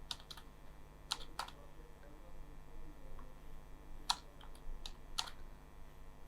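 Quiet typing on a computer keyboard, a scattering of crisp, close key clicks in small uneven clusters with pauses between, over a faint steady hum.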